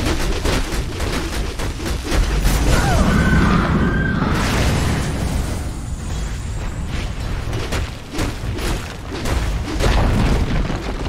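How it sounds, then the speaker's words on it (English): Dota 2 match in which the Dire bottom tower is destroyed, heard as loud booming explosions and crashing bursts over dense battle effects, sustained throughout with several heavy impacts. "Dire's bottom tower has fallen."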